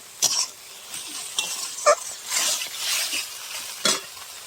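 Chopped tomato and spices sautéing in a pan for Bengali fish curry, a quiet sizzle broken by a few sharp spoon scrapes and stirring bursts.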